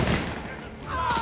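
Gunfire in the video game Mafia, a dense burst of shots under raised voices, fairly loud and continuous throughout.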